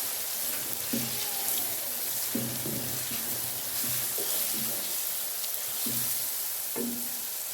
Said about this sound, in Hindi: अभी हम डालेंगे जी लहसुन अदरक का पेस्ट। इसे अच्छे से भूनेंगे।